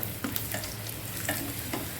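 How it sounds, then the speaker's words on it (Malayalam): Cashews and raisins crackle and sizzle in hot oil, with a few soft scraping stirs across the pan, close up. "കുറച്ച് അണ്ടിപ്പരിപ്പും മുന്തിരിയും കൂടി ഇട്ട് കൊടുത്ത് നമുക്ക് വറുത്തെടുക്കാം."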